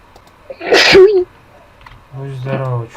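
A single sharp sneeze bursts out close by, followed a moment later by someone speaking.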